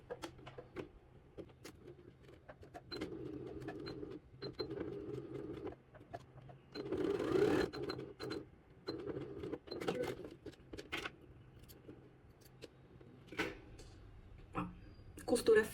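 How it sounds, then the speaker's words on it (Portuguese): A sewing machine stitches a tapering dart seam on tailored trousers in short bursts of a steady whirring hum with pauses between them, under intermittent talking. "agora eu vou fazer uma costura, que vai começar aqui e vai terminar afunilando bem aonde eu coloquei o último pontinho da pence"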